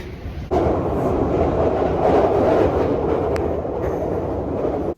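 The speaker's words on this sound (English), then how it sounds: "I'm in the underground. I'm going to get on the train." A loud London Underground train rumbles steadily after a sudden onset, with a dense roar of wheels and motor filling the carriage.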